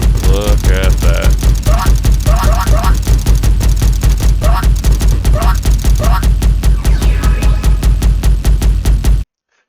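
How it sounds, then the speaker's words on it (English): An engineer turret in a video game fires a steady, rapid stream of sharp mechanical shots, loud and close, with a brief pause at the end, mixed with chirpy tonal game effects. "So that's kind of my turret in action."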